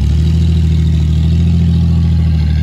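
A car running with its catalytic converters cut off idles loud and steady, a deep droning rumble holding level throughout with no talking over it.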